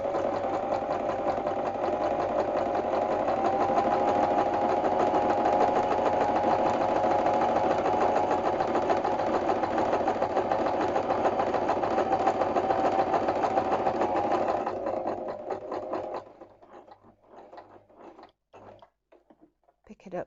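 A sewing machine runs steadily while stitching around the edge of a fabric seagull hanging, its continuous motor hum lasting about fifteen seconds before stopping, followed by quiet handling noises.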